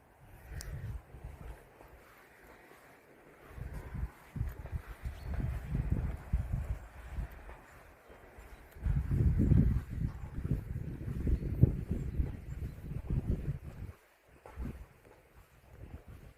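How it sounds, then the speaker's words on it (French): Gusty wind buffets a van on the road near Mont Aigoual and the Aubrac, low rumbling gusts rising and falling in uneven surges, stronger in the middle stretch. "Oui, il y a du vent là."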